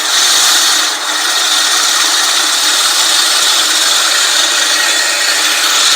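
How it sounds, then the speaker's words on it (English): A drill spins the reel of a 20-inch seven-blade California Trimmer RL20h reel mower for backlapping, a loud, steady grinding whir that runs continuously and close with only a slight dip near the start. "I'm going to go ahead and start my drill"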